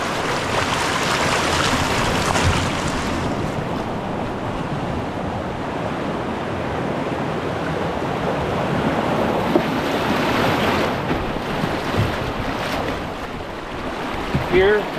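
River rapids rushing loudly and continuously around a paddler on a remote trout river, a close, steady roar of moving water with some wind buffeting the microphone.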